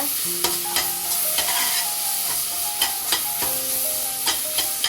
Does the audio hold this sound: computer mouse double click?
no